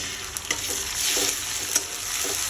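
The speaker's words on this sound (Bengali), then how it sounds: "তো এখানে আমার পেঁয়াজ প্রায় ভাজা হয়ে গেছে। তো এখন আমি আদা বাটা দিয়ে দেবো এখানে।" Onions nearly browned in a hot pan fry with a bright, close sizzle as ginger paste goes in, the hiss swelling a little while a few quick spatula knocks and scrapes sound near.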